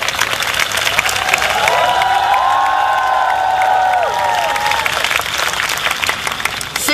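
At the Hong Kong closing Mass of World Youth Day, a large crowd cheers and applauds in a continuous roar of clapping, with drawn-out shouts and whoops rising above it in the middle.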